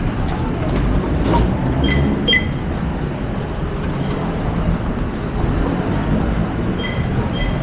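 Steady low rumble of a light rail train at EDSA LRT station, with faint clanks and brief high squeals over continuous mechanical noise.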